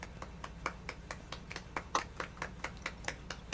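A single pair of hands claps at an even, quick pace, a string of sharp, fairly faint smacks repeating about five times a second over a low background hum.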